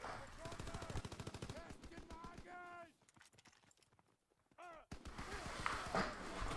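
Lewis LMG fire in Call of Duty WW2 rattles out in quick, faint bursts of rapid automatic shots, broken by brief pauses and mixed with other game sounds.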